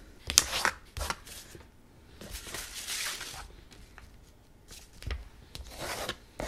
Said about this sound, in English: And then we should fold it short ways.